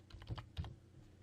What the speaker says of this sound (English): I'll put in a little password so that it's password protected.